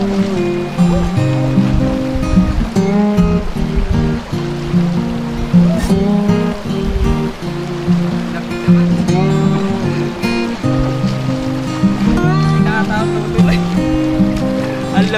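Cold river water flowing beside a riverside moto campsite, a continuous rushing wash mixed with splashing and people talking over it throughout.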